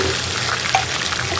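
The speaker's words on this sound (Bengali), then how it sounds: "এখন দিয়ে দিলাম সামান্য পরিমাণ পানি।" A little water is added to onions frying in oil, giving a dense, steady hiss of sizzling up close with no speech.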